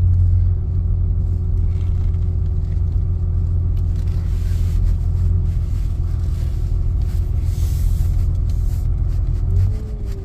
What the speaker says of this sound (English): One truck just pulling in to unload.